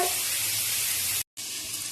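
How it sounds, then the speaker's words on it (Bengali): Vegetables frying in a pan, making a loud, dense, continuous sizzle heard up close with a brief cut near the end, and no talk. "সবজিটা ভাজা হোক"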